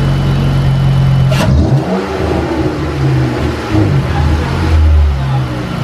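A 2015 Chrysler 200 3.6L engine with a ported 80mm throttle body revs loudly up close, with low rumbling harmonics rising and falling through a couple of throttle bursts and a brief sharp knock early on.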